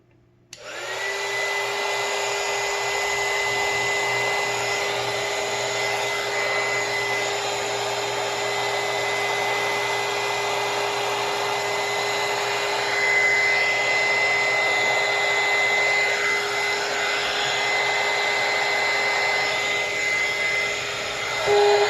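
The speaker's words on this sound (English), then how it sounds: "You try to work from the outside in with heat guns typically." A heat gun blows hot air onto a laptop's RTC/CMOS battery during a rebuild on a Compaq LTE Elite, a steady close whine and rushing airflow that starts abruptly and holds for about twenty seconds.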